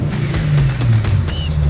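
A supercharged 3.7 V6 Ford Mustang engine turns over and settles into a deep, rumbling idle, close and loud, with a brief higher supercharger whine partway through.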